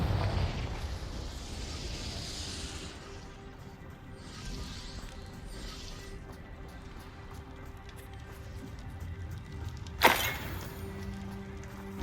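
In Hogwarts Legacy, the Confringo fire blast spell lands as a single sharp, bursting blast late in the clip, rising above a quieter bed of ambient game rumble.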